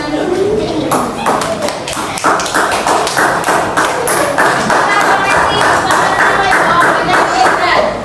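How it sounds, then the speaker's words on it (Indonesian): Rapid, continuous hand clapping from a class of students fills the classroom, steady and fairly loud for several seconds, with a voice briefly audible at the start. "tepuk tangan untuk teman kita"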